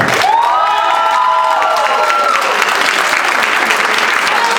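A crowd at a 13th Council District candidates' forum in Throggs Neck breaks into loud, sustained applause, with a drawn-out shout or whoop rising over the clapping near the start.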